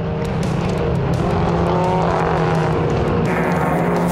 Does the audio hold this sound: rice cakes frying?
no